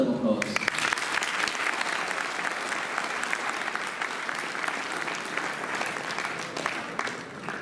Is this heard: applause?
yes